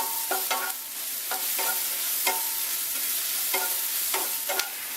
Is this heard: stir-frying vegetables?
yes